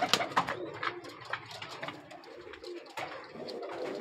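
Teddy breeder pigeons coo softly and repeatedly at close range in a loft in Lahore, with a few wing flutters and bursts of rustling between the calls.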